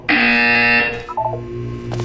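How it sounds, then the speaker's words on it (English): A loud electronic buzzer from the Portal 2 video game sounds in one sustained, harsh tone, then breaks into shorter stuttering buzzes. "When you hear the buzzer, look down at the floor"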